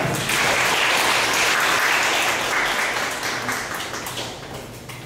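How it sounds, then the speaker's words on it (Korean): An audience at a conference forum breaks into loud, dense applause for an incoming speaker; it holds steady and then gradually tapers off toward the end. "박수로 맞아주시기 바랍니다."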